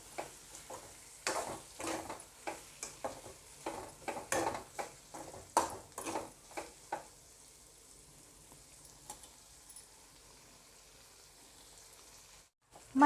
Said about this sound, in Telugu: ఇలా వేగుతున్నప్పుడు దాంట్లోకి వేయించుకున్న పచ్చిరొయ్యలు వేసుకొని మొత్తం ఉప్పు కారం బాగా ఆ రొయ్యలకు కూడా పట్టేలాగా కలుపుకొని